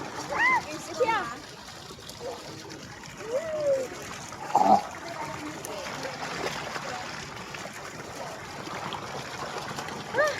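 Water splashes and trickles loosely while someone bathes, with intermittent splashes and drips under nearby talking voices, including a child's.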